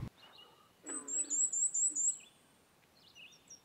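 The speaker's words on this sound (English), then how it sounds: "Cape May warbler." A Cape May warbler sings a thin, very high series of rapid notes, fairly clear against quiet background, followed by a few softer high chirps from other birds.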